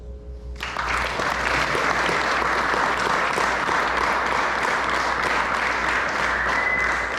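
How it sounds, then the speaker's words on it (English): An audience at a varsity spring athletic banquet bursts into applause for the parents, a sudden onset of loud, dense clapping that holds steady and sustained throughout. "I think you guys owe them a round of applause"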